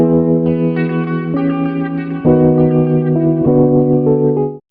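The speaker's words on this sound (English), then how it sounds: "And add reverb." A bright synth melody in an Afrobeats track with reverb rings out with a washy, spacious tail, notes stepping through a few changes before fading out at the end.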